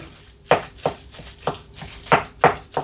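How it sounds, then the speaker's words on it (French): Spinach is mixed into an egg and ricotta stuffing in a bowl, giving about seven sharp, evenly spaced knocks and scrapes close by, with no talk. "Je les ajoute à ma farce œuf ricotta. Je mélange."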